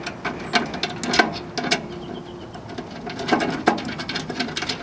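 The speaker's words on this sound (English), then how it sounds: "Tighten these down with a Phillips screwdriver." Screws are driven into a handle on the hopper of a Camp Chef Woodwind WiFi 24 pellet grill with a Phillips screwdriver, giving a series of close, light ratcheting clicks and scrapes in irregular bursts.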